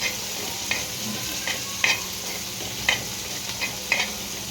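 Prawns frying in a pan give off a steady, close sizzle, broken by a few sharp clinks and scrapes as they are stirred.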